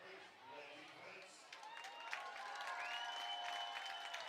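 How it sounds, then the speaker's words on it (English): A packed high school football crowd at a night game, a steady broad roar of many voices with scattered cheers and whistles swelling slightly over several seconds, fairly distant and continuous. "Overcoming crowd, you can hear them right in front of us"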